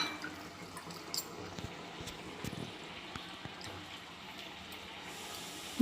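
Water being poured and mixed into curd in a home kitchen: quiet drips, splashes and small liquid gurgles, close by and intermittent over a low background, with no voices.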